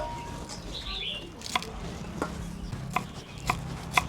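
Ingredients for a chicken and winter melon soup are chopped on a board, with several distinct knife knocks spaced irregularly over a quiet kitchen background and faint bird chirps.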